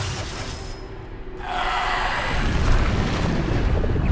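The Bombarda spell detonates in Hogwarts Legacy, a loud blast that swells into a sustained, crackling roar of debris and rumbling that stays strong to the end.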